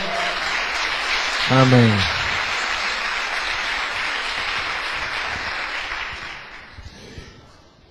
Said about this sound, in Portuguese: Uma salva de palmas para o servo do Senhor.